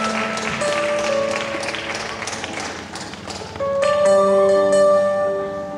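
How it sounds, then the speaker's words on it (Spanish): A church congregation claps in a dense burst of applause that fades, then swells again, mixed with sustained organ or keyboard tones and a voice speaking over the room. "una ofrenda de palmas al más grande de todos"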